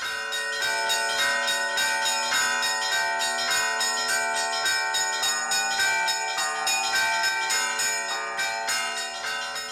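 Church bells rung by a monk on Mount Athos at Easter, a continuous rich clangour of overlapping strikes in a quick repeating rhythm, loud and full with no talking.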